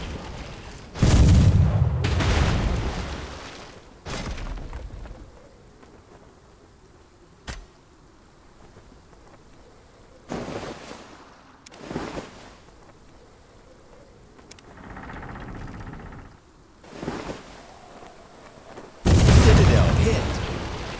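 Heavy shell explosions strike a citadel in the mobile battle royale naval game Sunken Century, several separate loud booming blasts spaced across the span with quieter rumbling gaps between them.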